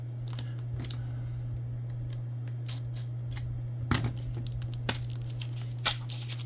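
Packing tape on a mail package of football cards is snipped and torn in short, crisp rips and crackles, with a few sharper snaps against a steady low electrical hum.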